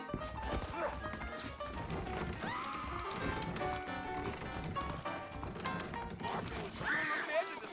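Horses in the Red Dead Redemption video game, clip-clop hoofbeats mixed with other game sounds, with people talking over them.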